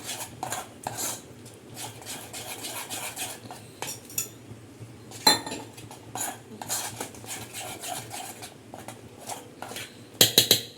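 A spoon clinks and scrapes against a bowl while gram flour batter is stirred thin for potato bread pakoras, the rhythmic clattering strokes close and steady with a few sharper knocks, no talking.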